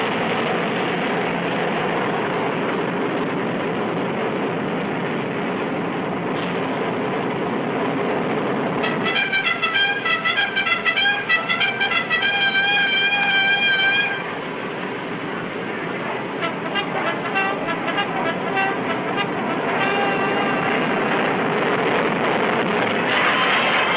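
A 100-ton Air Force aircraft takes off, a loud, continuous broadband jet roar that swells with a high whining tone partway through, then settles back into a sustained rushing drone.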